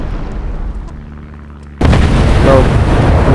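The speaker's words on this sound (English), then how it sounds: "there goes another aircraft right in the ground" An aircraft slams into the ground in War Thunder Mobile, a sudden loud explosive boom cutting in after a quieter stretch of low rumble, then a sustained roaring blast.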